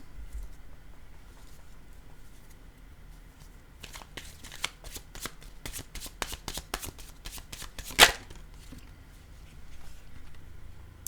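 A deck of cards being shuffled up close: a quick burst of riffling flutter, then a brief louder snap as the cards bridge back together, in an otherwise quiet room.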